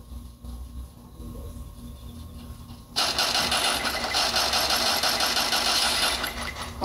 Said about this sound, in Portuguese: Vai chegar um de moto.